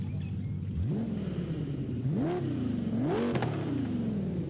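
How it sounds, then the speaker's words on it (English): A deep 5-liter V10 car engine in the video game Forza Horizon 5 revs up in a few sharp bursts, rising and falling over a steady idling drone. "Does it sound like a V10 to you? It's a 5-liter V10."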